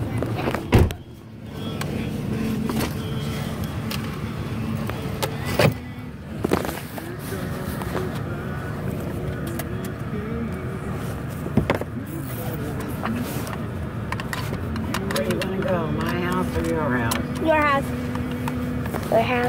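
Steady engine rumble and road noise inside a moving bus carrying few passengers, continuous throughout, with people talking close by over the drone.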